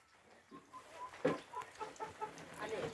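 Several chickens cluck in short, uneven bursts nearby, with a few sharper calls standing out against a quiet farmyard background.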